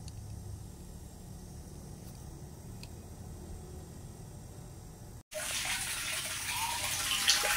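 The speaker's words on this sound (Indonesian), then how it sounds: "Ini teman-teman, ini sudah mengalir ini airnya." Water from a well runs through a homemade filter and pours out as a continuous hiss. It starts abruptly after a short quiet gap and then holds steady and fairly loud, with no talking.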